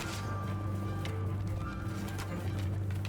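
Cavalry horses galloping across a battlefield in Mount & Blade II: Bannerlord, a steady rumble of hooves with occasional whinnies, loud and continuous under light battle ambience.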